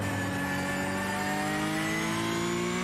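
Porsche race car engine in a video game endurance race at the Nürburgring, a steady high-pitched drone with rising harmonics as it accelerates, loud and continuous with no talk.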